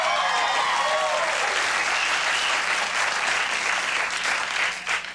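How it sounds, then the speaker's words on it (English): A television studio audience on a 1999 late-night talk show breaks into loud, sustained applause after a monologue joke, a dense wash of clapping that carries steadily for about five seconds before starting to thin. "In the business, we call that pity applause."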